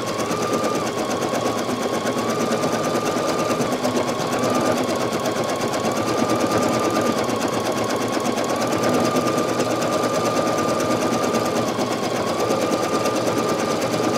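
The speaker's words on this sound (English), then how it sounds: "I'll let you see how this metallic thread stitches." A Brother NQ3700D embroidery machine stitching metallic thread hums with a fast, even mechanical rattle, steady and close for the whole stretch, with a faint pitch wobble and no talk.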